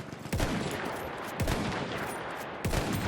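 Gunshots in Battlefield 1 during a German cavalry battle: three sharp cracks about a second apart, each with a short boom and tail, over a low bed of battlefield noise.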